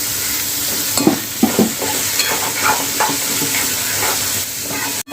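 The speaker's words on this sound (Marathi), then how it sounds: "डाळ पण आपल्याला चांगली अशी फ्राय करून घ्यायची आहे" Chana dal and onion fry in a hot pan with a steady, loud sizzle, punctuated by a few scraping stirs near the start and middle, with no talking.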